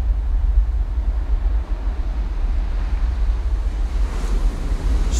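Ocean waves surge and break along a rugged, exposed coastline while strong wind buffets the microphone, producing a steady, loud roar of surf and gusts throughout.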